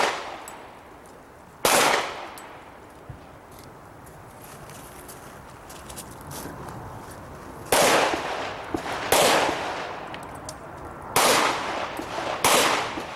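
Pistol shots at an outdoor IDPA shooting match at a wildlife club, a few sharp reports in quick pairs and small clusters, separated by quieter pauses with faint background noise.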